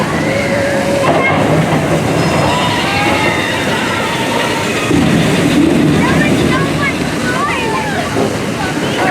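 The Big Thunder Mountain Railroad mine train roller coaster at Magic Kingdom, Walt Disney World, rumbles and rattles roughly along its track, with clattering wheels and occasional squeals, loud and continuous, with people talking over it.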